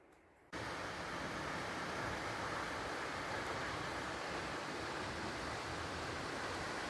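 A mountain waterfall beside the Tridentina via ferrata in the Dolomites, a constant broad roar of rushing water that starts abruptly after a brief quiet moment and holds steady throughout.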